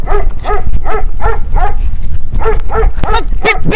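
A dog barks about nine times in a quick, steady series of close, loud barks, with nothing else heard alongside it.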